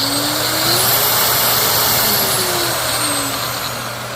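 Makita 9237CX3 rotary polisher running steadily after being reassembled, a continuous motor whine with a faint high-pitched tone, loud and close, holding even for the whole stretch with no talking.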